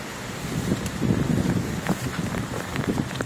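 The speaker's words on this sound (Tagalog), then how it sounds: "Nalakas na yung hangin, nalakas na rin yung ulan." Strong wind and rain during an approaching storm produce a rough, gusty rush with buffeting and spattering, moderately loud and continuous, with no voices.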